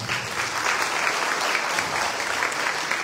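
Applause from an audience at a university academic-year inauguration ceremony in Chilca, sustained and dense throughout with steady volume, no talking over it.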